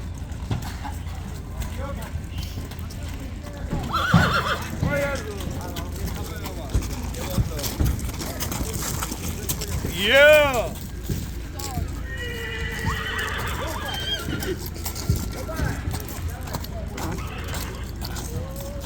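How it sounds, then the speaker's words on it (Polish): Horses being loaded into trailers for slaughter neigh and whinny repeatedly, with one loud, near whinny standing out, while hooves clop and knock over a busy background of voices talking and general outdoor bustle. "Tam są konie na rzeź, które wiozą."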